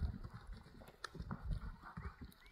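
Horse hooves clip-clop at a horse market, a series of quiet, uneven hoof thuds on the ground at middle distance, with faint background noise.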